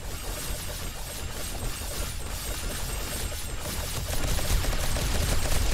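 Automated turrets fire rapidly at zombies in the game 7 Days to Die with the Darkness Falls mod, producing a dense, continuous crackling barrage of gunfire that grows slightly louder toward the end.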